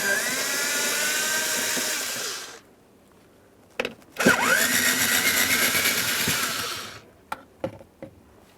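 A power screwdriver removes Phillips head screws from the blower motor assembly of a 2009-2014 Nissan Maxima HVAC system, giving two sustained whirring runs separated by a brief pause and a few sharp clicks.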